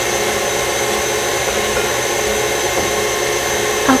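An electric mixer whirs through cider donut batter in a kitchen, a steady, loud, close motor drone that holds unbroken throughout with no talking.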